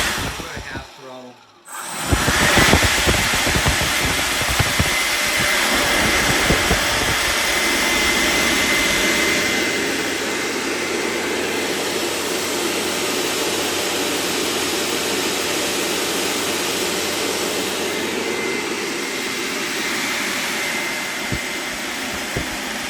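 A 3D-printed RC electric ducted fan runs at half throttle, a loud, steady, rushing whine that holds for about twenty seconds after a brief start, with a voice heard faintly.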